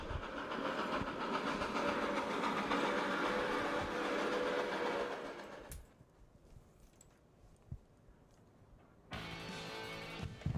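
A freight train rolls past with a loud, steady rumble and clatter for several seconds, then drops away to near quiet before the noise swells again.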